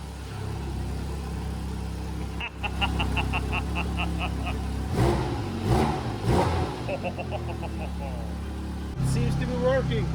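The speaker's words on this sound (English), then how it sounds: "we put the key in the ignition, turned the key around, and the engine started." A 2024 Porsche GT4 RS being brought back after sitting, its starter chirping in rapid repeated clicks before the engine catches and settles into a low idle, with people talking nearby.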